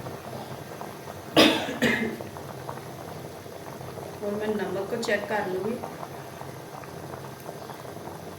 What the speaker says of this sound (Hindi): पानी को बॉयल आ चुका है।